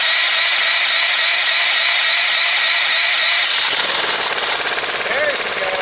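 A Powerstroke pressure washer engine, cold after sitting all winter, fires up and settles into a loud, steady, rattling run close by after a brief lead-in.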